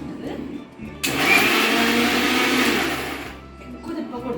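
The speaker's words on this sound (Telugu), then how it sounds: "ఎక్కువ తిప్పకూడదు మిక్సీ, ఒకసారి ఇలా అంతే" A mixer grinder blends tomato chutney with salt and plenty of coriander in one short, loud burst of about two seconds that cuts in sharply and then winds down, with quieter sounds on either side.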